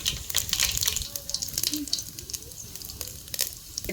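Mustard seeds crackle and splutter in a ladleful of hot oil, tempering for a spicy Kolhapuri-style kat amti dal. A dense, continuous popping sizzle runs throughout with sharp spikes of crackle, close and fairly loud.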